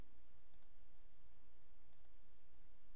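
A computer mouse gives a few faint clicks, two quick pairs spaced a second or so apart, over a steady background hiss with no talking.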